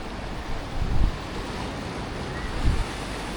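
Ocean waves break against a rocky pier at Playa América in Galicia, Spain: a steady roar of surf with two heavier surges, plus wind buffeting the microphone and no voices.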